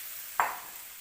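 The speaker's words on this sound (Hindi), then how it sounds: "ये जो गुड़ का सिरप है ये इसके अंदर ऐड करना है" Jaggery syrup poured into wheat flour halwa in a hot pan gives one sudden short sizzle that fades within a moment, against quiet background hiss.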